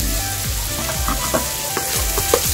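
A pot of monggo with malunggay, squash and alugbati being stirred, a steady low sizzle and bubbling under soft, repeated scrapes of the spoon, with no talking.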